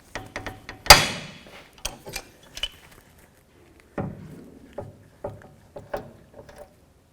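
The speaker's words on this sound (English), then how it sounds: "you get a big pair of adjustable pliers and take it off." An inner tie rod on a 2011-2014 Hyundai Sonata is worked off with large adjustable pliers, giving sharp metallic clanks and ratcheting clicks in irregular bursts, close up, with quieter gaps between them.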